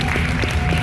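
Dense, steady applause from an audience at a Fright Fest 2021 night scares stage show, loud and close, continuing without a break through the brief moment.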